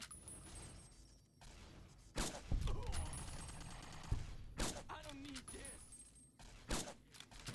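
Gunshots and explosive blasts in Fallout New Vegas arrive as scattered sharp cracks and a few louder thuds, mixed with mechanical clatter and faint voices, at a moderate distance.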